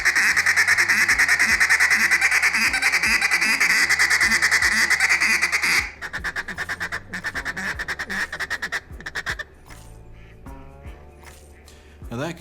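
A duck call blown aggressively in long drawn-out drag calls, loud and close, repeated raspy quacking notes that trail off into shorter, quieter calls near the end.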